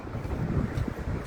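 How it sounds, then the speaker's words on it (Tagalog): Steady wind buffeting outdoors on a walk, a low, rough rushing noise across the whole moment with no talk. "Medyo mahangin sa amin."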